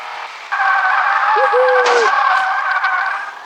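A car drifting in the Car Simulator video game, with a loud, steady engine drone and a sharp tire squeal that swells midway, then continues under the engine.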